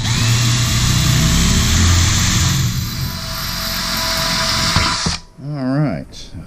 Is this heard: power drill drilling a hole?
yes